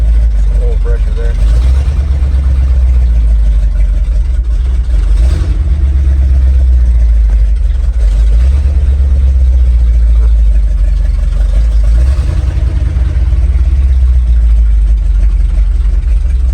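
A 1975 Ford F250 Highboy idles loudly and steadily close by, a deep continuous rumble with slight rhythmic pulsing, while people talk intermittently over the running engine.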